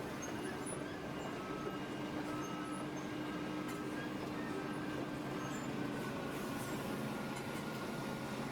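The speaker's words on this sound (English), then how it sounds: "This is the road planer reversing to allow the lorry that has just arrived to get into his position." A road planer manoeuvres in reverse on a road-building site to make room for a newly arrived lorry. Its heavy machinery rumbles steadily and continuously at a moderate distance, with a constant drone and a faint tonal whine and no voices.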